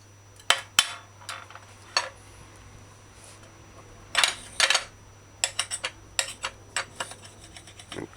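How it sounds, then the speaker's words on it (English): Knife slicing onions into little round slices on a cutting board for a vegetable cheese omelet, heard as a series of sharp, separate chops and taps, some quick and clustered, with quiet gaps between and no talking. "Slice it like you see me doing and get little round slices."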